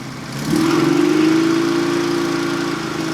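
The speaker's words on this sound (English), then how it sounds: "It's gonna have to idle for a bit with the choke on, that's why it's so loud." A tiny Honda car, nearly motorcycle-sized, has its small engine idling loudly with the choke on. A steady, buzzing drone rises in pitch and volume after a half second, then holds close and constant.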